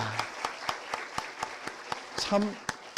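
Applause in a church during a Sunday afternoon worship service: a steady run of sharp, evenly spaced claps at moderate volume, with a brief voice rising in the middle.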